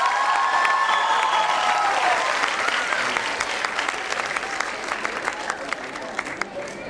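An audience at a school event claps, loud and dense at first and thinning slightly over seven seconds, with some crowd murmur underneath.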